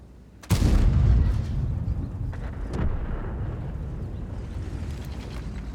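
A tank's main gun fires at a Panzer in World of Tanks, from a Lansen C: one heavy, close boom with a long rumbling tail, then a lighter second thump as the roar fades.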